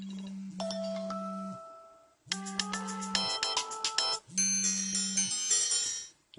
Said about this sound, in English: they have added different ringtones for you guys to choose from